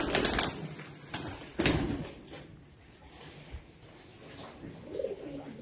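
Old line pigeons kept for sale in Bangalore coo softly in low, throaty bursts, with a few sharp clatters near the start and scattered cage noise between the calls.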